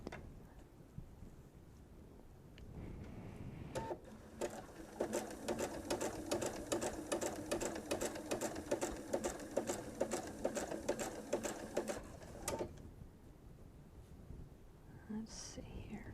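Sewing machine stitching binding onto a quilt, a close, rapid rhythmic whirring chatter that starts after a few seconds, runs steadily for about nine seconds and stops, with quiet whispered talk around it.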